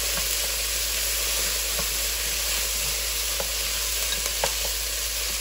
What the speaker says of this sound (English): Now what I like to do is add 2 ounces of tomato paste. We will stir this around.